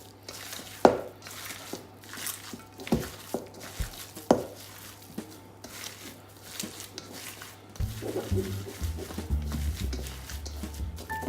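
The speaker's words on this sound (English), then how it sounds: "Now, clean hands, just squash it all together." Bare hands squash and knead a food mixture containing Parmesan cheese in a bowl, giving soft wet squelches and irregular thuds, close and quiet, with a few sharper taps early on and busier mixing noises toward the end.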